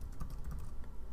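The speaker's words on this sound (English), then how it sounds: "so I'll just type that," Quiet, rapid typing on a computer keyboard, a steady patter of soft key clicks heard alone at close range.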